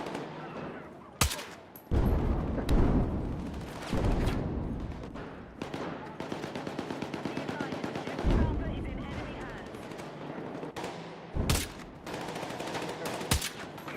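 DMR SVK rifle fire in a video game: a string of loud, sharp cracks, some as single shots and some in quick bursts, with dense noisy stretches between them.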